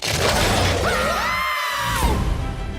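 Glass shatters amid a loud, dense cartoon soundtrack, with a dramatic sliding tone and crashing noise filling the scene in an animated Looney Tunes trailer.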